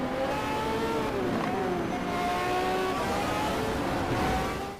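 In the racing game Need for Speed Shift 2, a car engine revs hard and keeps up a loud, continuous roar, the pitch sweeping up and down through gear changes before cutting off at the end.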